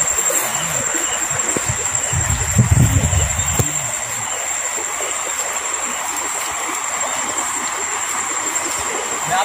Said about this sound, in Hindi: पानी बह रहा है तो निकल रहा है तो पानी की आवाज आ रही है लगातार।